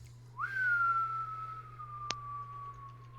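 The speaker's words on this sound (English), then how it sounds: "your whistle went out like 2 seconds in" A single steady whistle rises briefly, then holds a long, slowly falling note, clear and close, with a sharp click partway through over a low constant hum.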